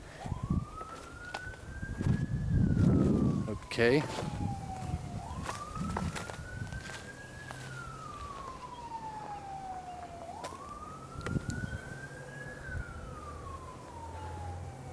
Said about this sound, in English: Probably hear the sirens over there.